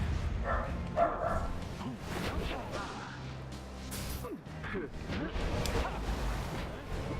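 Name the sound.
dogs barking in the video game Pyre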